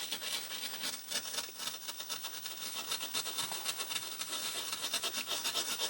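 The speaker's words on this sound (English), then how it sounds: "I've got a little brass pencil here, and that should work, because that's a little bit more abrasive basically." A small brass pencil scrubs corroded solder on an old ZX81 computer board, making a continuous close, dry, hissy scratching that rises and falls in quick back-and-forth strokes, alone with no talking.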